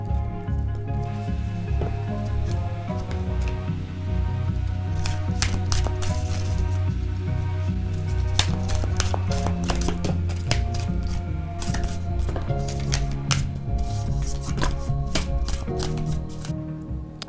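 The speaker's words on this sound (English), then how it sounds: "I'm just going to start shuffling" A deck of tarot cards is shuffled by hand at close range, with repeated riffles and soft slaps in an uneven rhythm that continues for a long stretch, with no speech.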